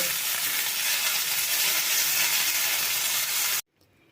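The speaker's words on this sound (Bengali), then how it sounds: "দেখো আমি ঢাকা দিয়ে দিয়ে বেগুনগুলোকে কিন্তু ভেজে নিয়েছি বেগুনগুলো সফট হয়ে গেছে" Steady, close hiss and crackle of eggplant frying in oil in a covered pan, constant for several seconds before cutting off abruptly into near silence.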